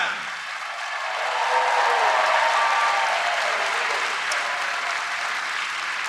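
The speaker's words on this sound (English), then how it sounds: "How about a huge round of applause for everyone from Suzanne?" A large audience at the Liberal National Convention 2023 claps in a steady, loud round of applause, with crowd noise filling the hall throughout.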